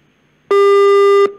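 A phone call cuts off with a single loud, steady electronic tone that lasts under a second after a near-silent line, with no voices.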